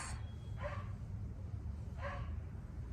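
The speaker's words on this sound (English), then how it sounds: "Excuse this dog, y'all." A dog barks twice in the distance, two short, faint yaps about a second and a half apart over a low background hum.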